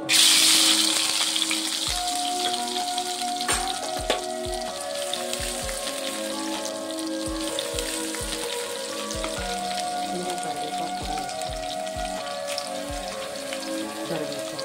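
Onions and green chillies frying in oil in a kadai, a close crackling sizzle with scattered pops and occasional utensil taps over a steady bubbling bed.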